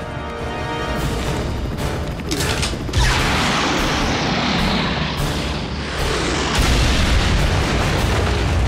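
Loud, sustained rumbling explosions and mechanical crashing as a railway track is blown up in an animated Transformers: Prime cartoon, with heavy booms surging in waves across the whole stretch and no talking.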